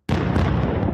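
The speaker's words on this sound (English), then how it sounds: "With those flashes of fire overnight, explosions rocked Beirut." A sudden loud blast from an overnight explosion in Beirut bursts in abruptly and rolls on as a dense, rumbling roar for about a second.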